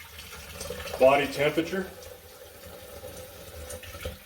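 Warm water runs from a tap into a calf's milk bottle, a brief splashing burst under a person talking steadily nearby.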